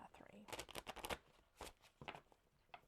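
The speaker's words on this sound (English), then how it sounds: "One more good shuffle" A deck of playing cards is shuffled close by in a series of quick riffling bursts, with brief pauses between them and faint noises in the background.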